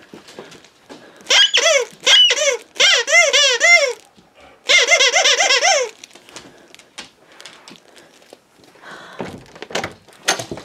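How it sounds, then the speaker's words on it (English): A crinkly Millennium Falcon plush dog toy with a giant squeaker gives two runs of rapid, shrill squeaks, loud and near, then quieter rustling and scattered thumps follow. "It's crinkly here, has a giant squeaker."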